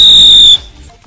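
A Silver Havoc ground spinner firecracker gives off a loud, piercing steady whistle with bright overtones, which stops abruptly after about half a second and leaves faint background noise.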